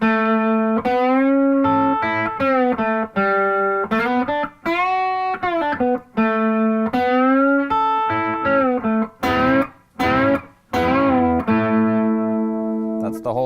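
Electric guitar solo from a song, played over the chorus chords: a loud, continuous run of bright, distorted sustained notes and bends with brief gaps, no talking over it.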